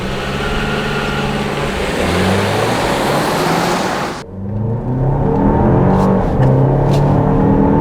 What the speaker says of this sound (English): Sport mode, traction off, load it, dump the brake.